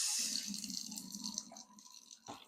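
Water poured into a container on a kitchen scale for shrimp and grits trickles faintly and steadily for a couple of seconds, quiet and close, with a small clink near the end.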